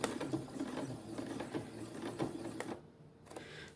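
A sewing machine stitching a seam on T-shirt shorts gives a close, rapid needle patter that runs steadily for several seconds, then pauses briefly before a last short burst.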